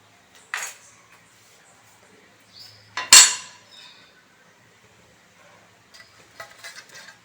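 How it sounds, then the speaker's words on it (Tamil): Metal stand set down inside a heated pan, a few sharp metallic clanks and scrapes, the loudest near the middle, with quiet pauses between. "இப்போ இதுக்குள்ளே ஒரு ஸ்டாண்ட் வச்சுக்கலாம்."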